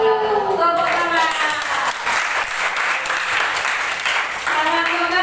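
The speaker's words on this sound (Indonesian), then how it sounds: "Tepuk tangan." A burst of loud group applause fills the room for several seconds, with voices heard briefly before it starts and again as it fades.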